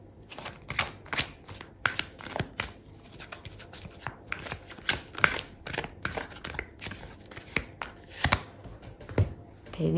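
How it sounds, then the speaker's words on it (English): Tarot cards being shuffled and handled during a Gemini love reading, giving a steady run of soft, close papery riffles and flicks with faint background hiss and no clear speech. "I'm going to pull out another card for you"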